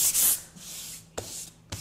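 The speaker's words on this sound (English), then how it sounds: "So what I'm doing here is just sanding the pore filler that's left on the surface." Bursts of abrasive sanding of dried pore filler on a wood surface, a long stroke at the start followed by two short, sharp rubs, close up with no voices.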